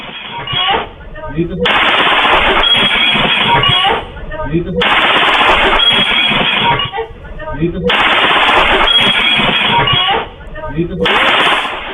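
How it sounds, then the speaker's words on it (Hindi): Rapid bursts of automatic gunfire, several long volleys separated by brief pauses, loud and harsh. "एक सेकंड में 13 गोलियां।"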